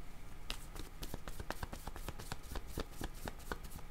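A deck of tarot cards is shuffled before a draw, producing a quick run of crisp riffling flicks and soft taps close up, repeating at an even rhythm.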